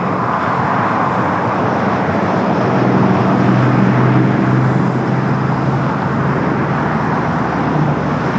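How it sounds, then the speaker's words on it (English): A Hawaiian Airlines A330 taxis at LAX, a loud steady broadband engine roar that holds evenly throughout with no voices. "Hawaiian A330 starting to taxi down to 25 at right"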